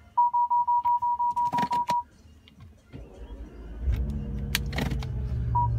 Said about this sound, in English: if I start the car actually to get them working